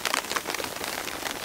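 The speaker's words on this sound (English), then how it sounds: "Man, the snow's coming down." Snow, ice and rain falling at a winter campsite during a snowstorm, a dense patter of drops and icy pellets striking a tent or surface, close and steady, no talk.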